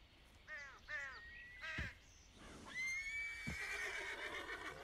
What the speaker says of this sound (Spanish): El caballo se ha asustado.